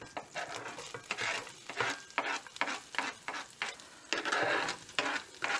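Garlic and onion fry in melted butter, a steady sizzle broken by rhythmic bursts of scraping as a utensil stirs the pan, close and fairly quiet with no voices.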